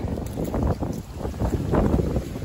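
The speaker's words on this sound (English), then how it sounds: "Oh, it's windy out." Wind blows outdoors in gusty, low rumbling buffets against the microphone, steady and loud throughout without speech.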